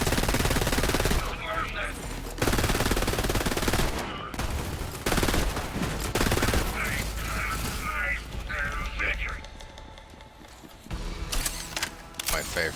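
SMG fire in the video game Borderlands 3, dense rapid bursts mixed with mechanical clatter and other game effects, loud and continuous through most of the stretch, with voices talking at points.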